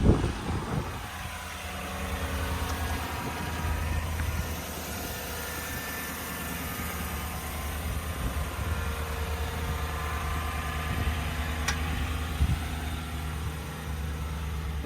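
Engine of a retired Michigan State Police 2016 Chevrolet Tahoe 4x4 runs at a steady idle, a low continuous rumble with a faint click or two, no talk.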